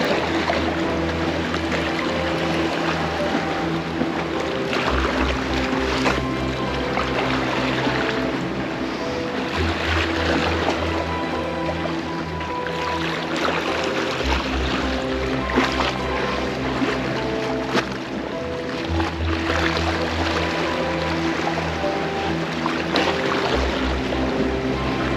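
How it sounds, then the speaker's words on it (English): Ocean waves and wind rushing past a small fishing boat at sea off Taiwan, a steady, loud wash of water and wind with a droning engine throughout and no talk. "Out here, it's just you and the water, the sounds of the waves, and the wind's just rushing at you"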